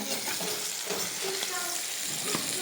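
An egg fries steadily in a pan for a homemade family breakfast, giving a continuous close crackling sizzle with small pops throughout and no talk.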